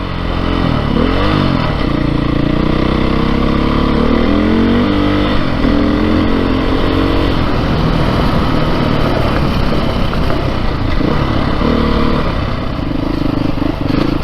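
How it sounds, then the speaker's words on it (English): A 2022 Beta 430 RR-S dirt bike chugs along in third gear at low revs, its engine a steady, loud, close drone with small shifts in pitch as the throttle rolls on and off, running continuously with no talking. "So here I am just putting around in like third gear, and it's perfectly happy"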